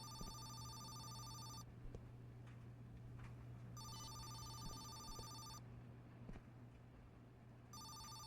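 A telephone in the Laundry Store Simulator video game rings in three long bursts of bright electronic trilling separated by pauses, over a faint low background hum.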